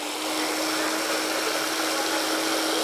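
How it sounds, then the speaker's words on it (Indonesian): An electric cake mixer runs at steady high speed in a kitchen where bakso meatballs are being made, giving a constant loud whirring whine with a faint tonal hum, no speech. "ini untuk mixer kue ya"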